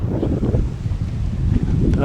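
Strong wind buffets the microphone with a steady low roar and rumbling gusts, loud and close throughout, while flying a small drone outdoors.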